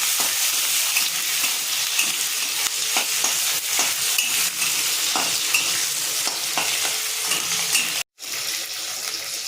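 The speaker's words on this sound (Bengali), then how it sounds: "আমার পেঁয়াজ ভাজা হয়ে গেছে" Onions frying in a pan with dried chillies, bay leaves and green chillies, a steady close hiss of sizzling oil punctuated by repeated scraping stirs of a spatula, with a brief drop to silence near the end.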